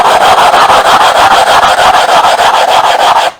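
Glass on glass grinding of a 6-inch telescope mirror with 80 grit abrasive: loud, steady gritty rubbing strokes in a fast even rhythm, close up and continuous, stopping abruptly at the end.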